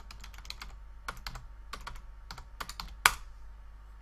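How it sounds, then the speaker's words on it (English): Someone types on a computer keyboard in irregular clusters of crisp clicks, close and clear, ending with one sharper key strike. "Let me type it out."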